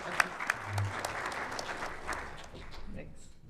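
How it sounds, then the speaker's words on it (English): An indoor tech-conference audience claps for a few seconds after a presenter is welcomed, a moderate patter of many hands with a voice speaking over it near the start. "I hope that was clapping for Chris."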